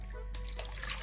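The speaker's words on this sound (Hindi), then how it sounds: "मैंने यहाँ पानी लिया है" Water pours steadily into a bowl for dumpling dough, a close, continuous trickling splash throughout a brief moment.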